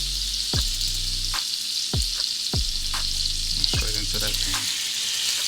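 French toast dunked and frying in melted butter in a hot pan gives a steady, close sizzle, broken by several soft clunks and stirring sounds, with a brief spoken phrase.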